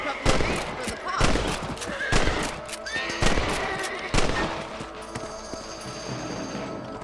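A horse whinnies in the Red Dead Redemption game, mixed with sharp bursts of gunfire and hoofbeats, several loud hits spread over the first seconds and then a quieter stretch.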